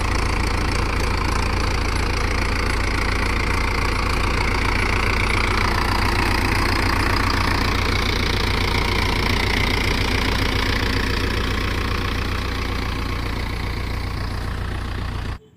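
A one-owner Mahindra Yuvo Tech 475 dual-clutch tractor idles loud and close, its diesel engine knocking in a fast, even chug that holds steady throughout before cutting off abruptly at the very end.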